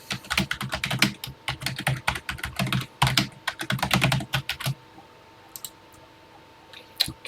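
Rapid clattering keystrokes on a computer keyboard while entering a program into the Classic 99 TI BASIC emulator, close and busy for several seconds, then falling silent apart from a few isolated taps.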